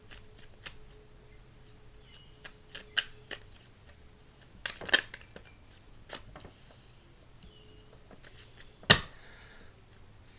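Tarot cards being shuffled by hand, with soft riffling patters and several sharper bursts of card flutter, close and fairly quiet, with no voices.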